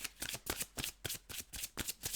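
Tarot cards riffle and slap in rapid repeated bursts, a close, crisp shuffling rhythm with brief pauses between flurries.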